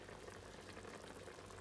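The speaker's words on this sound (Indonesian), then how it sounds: "Jadi udah mendidih," Chicken broth for opor ayam simmering in a covered pot, a faint, steady bubbling hiss that carries on evenly and alone.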